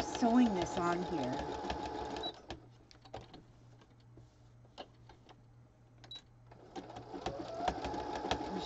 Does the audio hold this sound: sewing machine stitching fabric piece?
yes